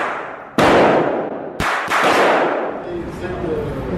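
Loud, sharp rifle shots from an assault rifle at a gun range in Thailand: a burst at the start, then two more cracks close together, each with a long ringing decay, and faint voices underneath.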